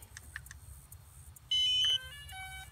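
A DJI Spark drone powering on, giving a short bright electronic tone followed by a softer rising chime, faint and close, over quiet low background hum.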